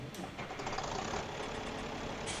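A Deutz tractor engine in the farming simulation game Farming Simulator 17, running at a steady idle with a dense, continuous mechanical drone and an even loudness throughout.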